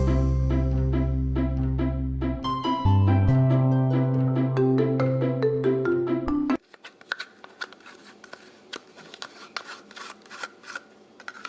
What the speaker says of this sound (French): Il ne vous reste plus qu'à mélanger ces 3 œufs entiers.